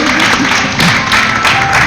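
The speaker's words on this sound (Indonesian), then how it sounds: "ayo tepuk tangan dong untuk Darani dan Afi" Studio audience applause on an Indonesian TV talk show, a dense steady patter of clapping from a crowd filling the short moment, with faint voices mixed in.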